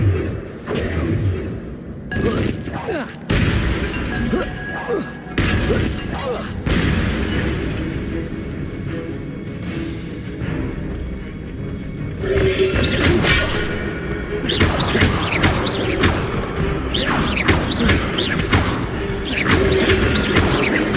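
Spells go off in Hogwarts Legacy as a run of booming impacts, crashes and whooshing magical bursts, some sharp and close, others rumbling on, with a player talking throughout.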